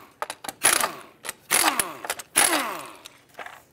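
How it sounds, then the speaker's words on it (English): A 19 mm socket on a ratchet loosens the plastic caps holding the hubcap on a Chevrolet HHR wheel, giving close, rapid clicking ratchet bursts in three or four separate runs with short pauses. "19 millimeter socket, remove these plastic caps that hold the hubcap on"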